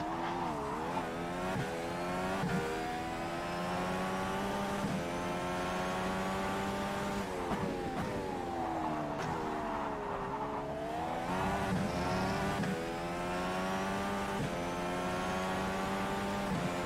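Indy car engine in rFactor 2 at Sebring, a steady high-pitched racing engine note rising and falling through gear changes and throttle lifts, close and continuous for the whole stretch with no talk.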